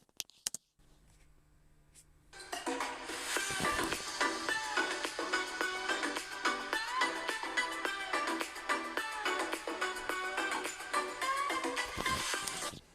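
Alienware laptop speakers at 50% volume play a dense music-like test track, starting quietly before swelling at about two and a half seconds into a steady, full mix that runs to the end.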